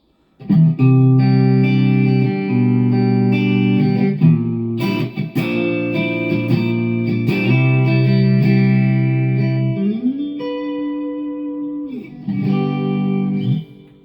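A clean electric guitar plays sustained chords and picked notes through a Hughes and Kettner Black Spirit 200 combo amp, loud and continuous with a brief pause near the end.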